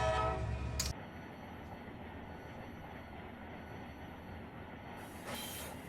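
A CSX locomotive in the Run8 train simulator game rolls along with a steady low rumble of wheels and engine. A short horn note sounds at the start, and a rising hiss follows near the end, with no talking.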